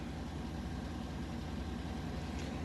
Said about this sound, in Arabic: وهذا صوت الماكينة